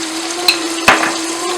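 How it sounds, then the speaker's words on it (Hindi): Masala paste fries loudly in oil with red chili powder and black pepper, a close, constant sizzle broken by two sharp spoon knocks against the pan, with no one speaking. "इस पेस्ट को मज़ीद तब तक पकाएंगे जब तक इसका ऑयल ऊपर आ जाए"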